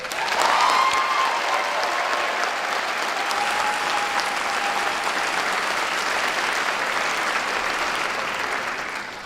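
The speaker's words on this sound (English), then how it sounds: "give a big round of applause to Jess" Sustained applause from a large crowd at a college commencement ceremony, dense and steady for about nine seconds with a few faint cheers or whistles drifting through early on.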